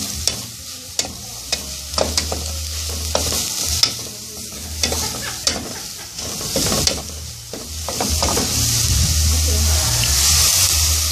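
Catfish meat cooks in a pan with a little water, a steady close sizzle and hiss with sharp clicks of stirring throughout, building slightly louder toward the end.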